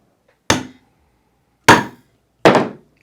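A hammer strikes a metal snap setter three times to flatten a leather snap, sharp close whacks spaced about a second apart, each ringing briefly before silence.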